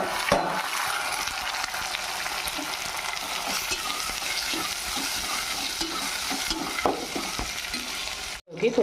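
Chopped vegetables frying in oil with cumin, mustard seeds, chana dal and curry leaves for a meal maker curry, giving a steady, close sizzle with stirring scrapes and no talk.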